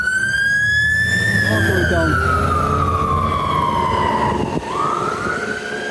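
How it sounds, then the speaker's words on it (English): A fire engine races past on a city street, its wailing siren loud and close, the pitch sliding lower as it goes by, over traffic rumble while someone talks briefly. "There's a fire brigade. Fire brigade coming past."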